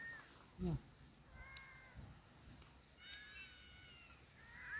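A cat meows several times, faint to moderate, in short rising calls spread across the clip, with a louder thump near the start and a quiet background.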